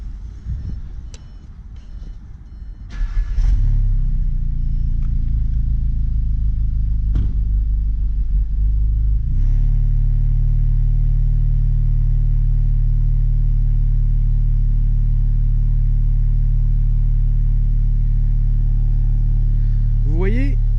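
An Audi S3 Full Black's engine starts, then holds a loud, steady, deep rumble at idle close by with a brief rev at the end, while people talk over it.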